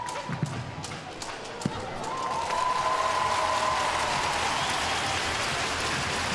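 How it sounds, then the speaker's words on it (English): At a gymnastics World Cup in Doha, the arena crowd applauds after a vault. The clapping swells into a broad, sustained wash of applause while a commentator speaks over it. "judging by the noise from the crowd, they think so too"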